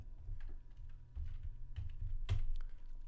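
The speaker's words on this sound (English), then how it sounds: "Type in your new name and hit the return or the enter key" Keys tapped on a computer keyboard during music software use, a quiet irregular run of clicks with one sharper strike near the end.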